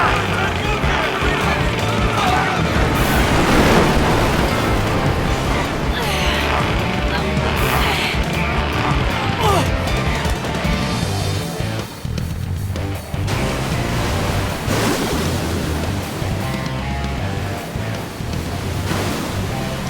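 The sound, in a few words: waterspout and stormy sea in anime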